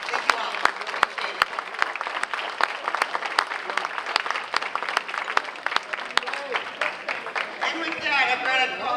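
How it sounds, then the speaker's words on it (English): Dinner guests at a veterans' social in North Reading, Massachusetts give a warm round of applause, with dense clapping throughout and voices rising as it fades. "Another nice round of applause."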